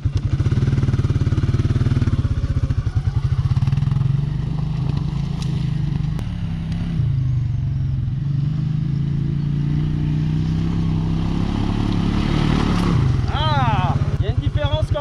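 A 500 cc Can-Am quad's engine runs steadily at a constant, loud idle-like drone with a deep rumble throughout, clattering slightly, while someone talks nearby.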